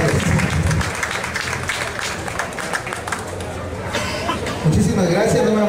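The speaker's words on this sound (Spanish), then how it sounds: "¡Fuerte los aplausos!" Loud, sustained applause from an audience at a university choir's cultural afternoon, dense clapping mixed with crowd chatter and chuckles that swells again near the end.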